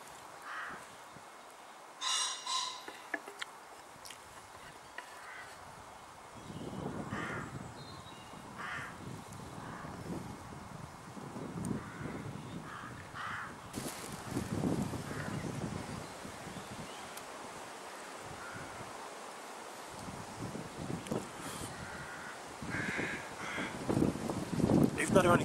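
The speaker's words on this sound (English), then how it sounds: "What are they, crows, magpies? I think they're crows." Crows cawing in the woods, scattered harsh calls near and far over wind and rustling leaves, with occasional louder bursts.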